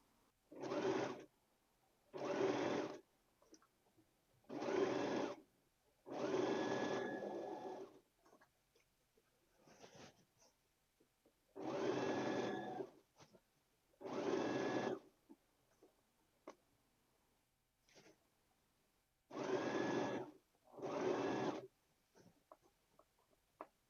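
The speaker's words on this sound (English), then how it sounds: "feed it to the sewing machine and we'll start sewing" A sewing machine with a zipper foot runs in short bursts of rapid stitching while sewing a zipper into a dress, about eight runs separated by pauses, close and clear in a quiet room.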